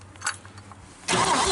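A GMC 305 V-6 cranks over, coughing and catching on its first start after sitting for years, with a few faint clicks before the engine bursts loudly into running.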